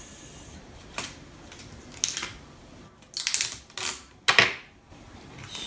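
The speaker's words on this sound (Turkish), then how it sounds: "Sonra bir makas." Scissors cut packing tape in several short, sharp snips at irregular intervals, with a crisp rustle between cuts; close and fairly quiet, with no one talking.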